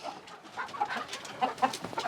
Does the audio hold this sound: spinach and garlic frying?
no